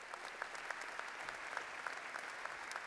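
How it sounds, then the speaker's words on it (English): Audience applause at a University of North Georgia fall commencement, thinner and fairly faint, with scattered individual claps standing out in a steady spread of hand noise throughout. "Would you give them a round of applause?"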